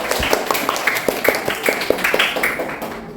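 A classroom of students claps for a winning group in a quick, rhythmic patterned beat of distinct claps, with voices mixed in.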